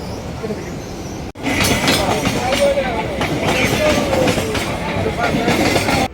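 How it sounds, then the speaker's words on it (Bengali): After a brief quieter stretch, a moving Nanded special passenger train rumbles loudly and steadily, with wheel clatter and occasional squeals, heard from inside a carriage. "নান্দের স্পেশাল ট্রেনে আমরা বসে গেছি ট্রেন ছেড়েও দিয়েছে আমরা চলেছি"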